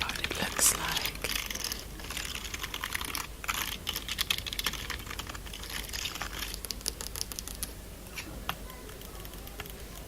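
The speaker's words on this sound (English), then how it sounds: "Look at this rainbow keyboard." Rapid clicking keystrokes on a rainbow-lit gaming keyboard, close and crisp, coming in irregular bursts with short pauses.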